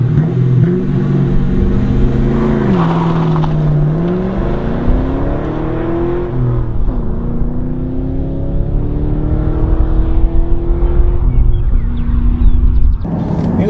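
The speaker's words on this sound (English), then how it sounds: "here we go, a little bit of wheel spin." A 2001 Ford Mustang Bullitt muscle car launches hard with a bit of wheel spin, its V8 engine revving and rising through the gears in a loud, close, continuous roar.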